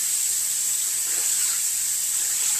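Lukewarm water running steadily from a bathroom tap for face washing, a continuous soft hiss of flow heard close and alone.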